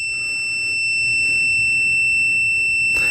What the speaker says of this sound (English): you can tell the continuity kicked in there